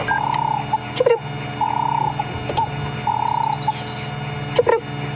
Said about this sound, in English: There he goes, giving a little contact call. It sounds a bit like a bird. It goes chip chip